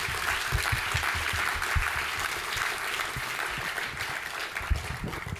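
Conference audience applauding the track chairs at an opening ceremony, a steady wash of many hands clapping in a large hall, sustained evenly throughout at moderate level.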